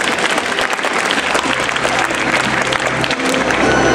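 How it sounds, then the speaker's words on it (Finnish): Audience applause at a craft fair fashion show, steady dense clapping from a crowd that continues evenly for the full length. "Nyt voisi antaa vaikka pienet aplodit."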